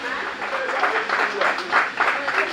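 Dense applause from a crowd at a ceremony fills the space, steady and fairly loud, with a French-speaking voice faintly audible beneath it.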